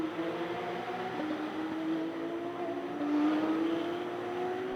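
Porsche Carrera Cup race cars run at Val de Vienne in 2012, a steady loud engine drone with rising pitch as the cars accelerate, heard at a distance under continuous race noise without talk.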